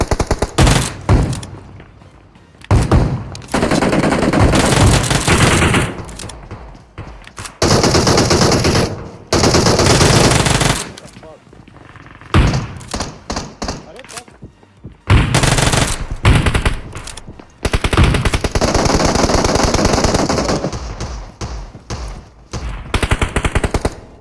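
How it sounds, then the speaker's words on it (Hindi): Long bursts of rapid automatic gunfire in a video game, loud and close, stopping and restarting repeatedly with brief quiet gaps between volleys. "पता है चारों तरफ से गोलियां चल रही थी"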